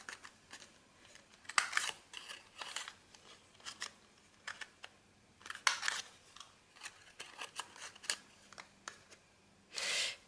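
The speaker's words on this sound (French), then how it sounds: "Donc vous le recoupez au ciseau." Scissors trim a thin paper strip for a scrapbook photo album, giving a string of short, crisp snipping cuts spread unevenly through the moment with a louder burst of cutting at the end, close up with no talk.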